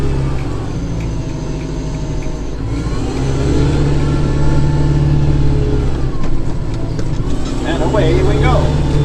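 A snowblower engine runs loudly close by while clearing snow after an April snowstorm, a steady mid-pitched drone that swells as it revs, with someone talking over it.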